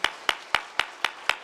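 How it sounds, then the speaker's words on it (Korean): In a church service for ordaining deacons, the congregation claps in six even, evenly spaced beats, crisp and fairly close, with no talking over them. "우리 박수 한번 하겠습니다."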